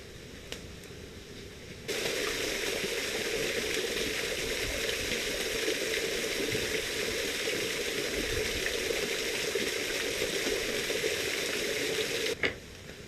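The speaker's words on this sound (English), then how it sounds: "You can hear my waterfall over there running really good" A waterfall swollen by days of heavy rain roars steadily in the distance, a constant broadband rush that starts abruptly after a quieter opening and cuts off near the end.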